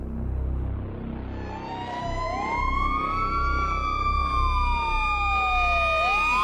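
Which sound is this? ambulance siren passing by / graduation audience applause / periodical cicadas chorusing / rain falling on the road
ambulance siren passing by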